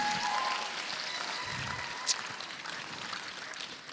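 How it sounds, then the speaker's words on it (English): Steady applause from a live pitch-day audience, a dense even patter that thins slightly toward the end, with no voices over it. "give them another round of applause"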